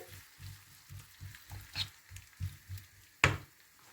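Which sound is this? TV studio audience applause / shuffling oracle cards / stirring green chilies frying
stirring green chilies frying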